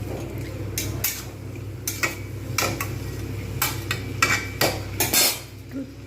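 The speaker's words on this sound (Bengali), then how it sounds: "এগুলো সব খুব ভালোভাবে কষবো" A spice paste for egg curry being stirred and fried in a pan, heard as sharp metallic utensil clinks and scrapes in irregular bursts over a low steady hum, close by.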